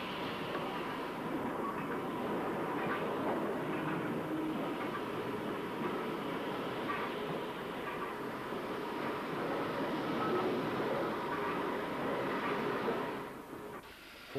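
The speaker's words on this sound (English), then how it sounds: "Engine 45202, trying to get a grip of matters on the often far from dry and usually oily rails on the motive power depots." Steam locomotive 45202, a Black Five, works on oily motive power depot rails, giving a continuous loud mechanical roar with rhythmic chuffing texture throughout that drops away abruptly near the end.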